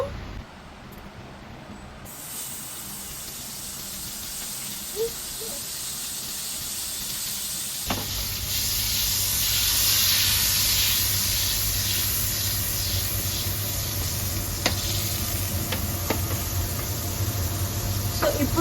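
Butter melting in a hot pan, heated for butter garlic mushrooms, begins as a faint hiss, then swells into a louder, steady sizzle partway through, with a few soft clicks scattered on top.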